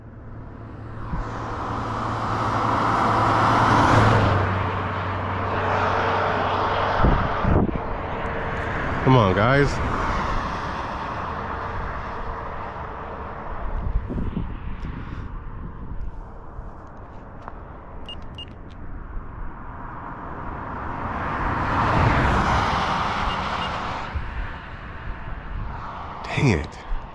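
Cars pass on a road in swelling, whooshing waves, one peaking early and another late, with steady traffic rumble between and someone talking over it.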